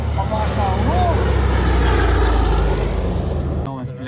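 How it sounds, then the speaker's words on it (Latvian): A propeller aircraft approaches at an air show, its engine drone loud and steady and swelling nearby, with a commentator speaking over it before it cuts off abruptly. "tuvojas šis ikoniskais lidaparāts"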